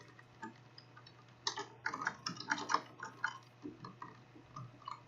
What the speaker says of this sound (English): I'm assuming that my keyboard is not ridiculously loud.